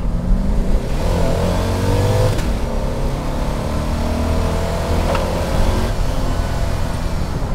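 A Mercedes-Benz C126 560 SEC V8 pulls hard under full acceleration on an open road, its deep, steady engine note loud and close, rising through the revs with a brief shift-like break partway through.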